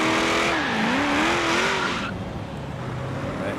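A Chevelle driven in the racing game Forza Horizon 3 revs and then eases off, with a wavering engine whine and tire noise under a steady roar that fades somewhat toward the end.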